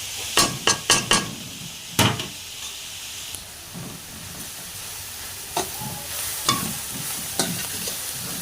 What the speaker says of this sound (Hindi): तो इसको हम 1 मिनट तक और भूनते हैं और फिर सब्ज़ धनिया डालेंगे